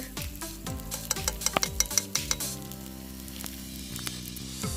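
Butter and onions sizzle steadily in a pan at a riverside campsite, a constant hiss with a few sharp clicks and stirring scrapes near the start, some clear tonal ringing running underneath throughout.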